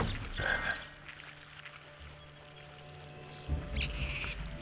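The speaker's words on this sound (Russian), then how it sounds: "О, жабка." A frog croaks in the Harry Potter and the Philosopher's Stone video game, a low creature call over faint game ambience and a steady hum, with a brighter burst of game sound near the end.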